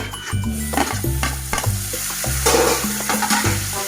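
Tomato tossed onto fried onion in a hot pan, loud close sizzling broken by repeated rhythmic scrapes and clacks of a spatula stirring, no one talking.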